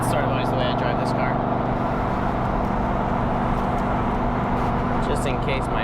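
A 1990s BMW E34 540i V8 with a Magnaflow exhaust and resonator deleted cruises in fifth gear at about 2,500 rpm, a steady low drone under someone talking over it from inside the car.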